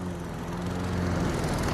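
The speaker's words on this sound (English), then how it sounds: "Got the lawnmower going in the background, don't matter." A lawn mower engine drones steadily in the background outdoors, a continuous low hum with no talk over it.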